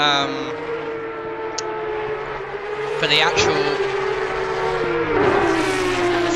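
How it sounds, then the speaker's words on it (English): Porsche Cup race cars in a sim racing game at Oulton Park, engines droning and rising in pitch with gear changes, heard under someone talking throughout. "the cars are absolutely roaring with noise"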